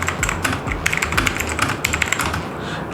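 Rapid, crisp clacking comes from typing on a Portronics K1 mechanical RGB keyboard, the keystrokes close, loud and continuous in an uneven rhythm with no voices.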